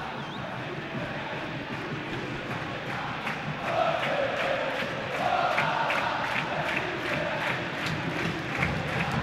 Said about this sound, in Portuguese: Torcida gritando o nome do Pedrinho.